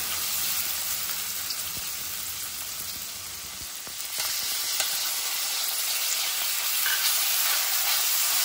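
Tomato and onion fry in a pan for hotel-style dal tadka, a steady close sizzle and hiss that swells louder partway through, with a few soft stirring taps and no talking.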